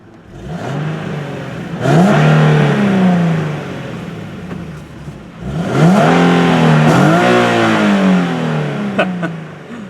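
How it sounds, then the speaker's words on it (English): A 2013 Nissan 370Z V6 engine with stock exhaust revs up twice with a rising, throaty roar, idling in between, loud and close with no talking. "V6 roars to life, and as soon as this truck goes by, I'll let you hear it"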